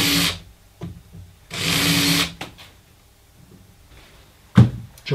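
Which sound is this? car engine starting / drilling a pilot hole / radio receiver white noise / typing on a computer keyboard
drilling a pilot hole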